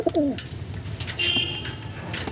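Domestic endurance pigeons kept in a loft give a couple of soft, close coos near the start, followed by lighter background chirps over a low steady hum.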